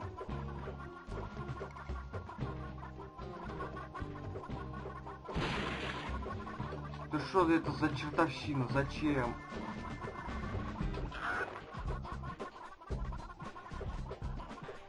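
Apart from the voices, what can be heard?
chickens clucking in the video game Gex 3: Deep Cover Gecko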